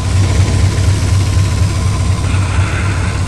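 A 1992 GMC Astro van with a 305 engine idling after a cold start, a loud, steady low rumble with a rhythmic throb and no voices, unchanging for the few seconds heard.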